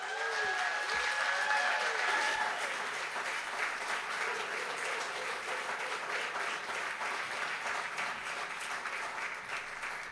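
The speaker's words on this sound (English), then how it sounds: "Let's give her another round of applause" An audience at a community celebration of Lunar New Year and Black history applauds with steady, dense clapping that lasts about ten seconds, loud and filling the room.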